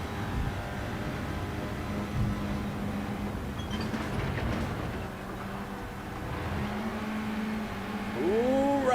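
A Mazda MX-5 Cup open-topped race car engine drones steadily from onboard, holding a loud sustained note that rises at the end as it revs through a corner.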